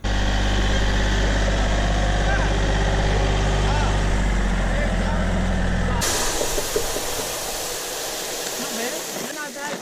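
Tractor engine running steadily while seeding millet on a dirt field, a loud continuous low rumble that cuts off abruptly partway, leaving quieter ambient noise with some talking.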